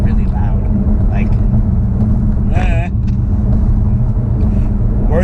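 A loud, deep car exhaust with an axle-back and H-pipe rumbles steadily at idle, a continuous throaty drone with a few faint chirps over it.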